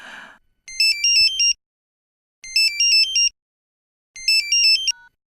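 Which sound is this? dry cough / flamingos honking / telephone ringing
telephone ringing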